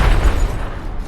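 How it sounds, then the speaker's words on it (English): Cannon fire in the fantasy game Dungeon Siege III lands as a single loud, deep boom with a rumbling burst that fades over about a second. "Cannon fire."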